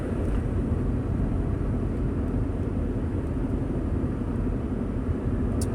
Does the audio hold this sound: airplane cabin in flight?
yes